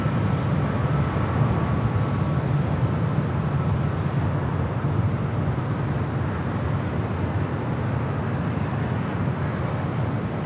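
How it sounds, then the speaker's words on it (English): A United Boeing Dreamliner jet rolls down runway 25 right at LAX, a continuous broad roar and rumble holding steady throughout at moderate distance. "We do have a United Dreamliner rolling down"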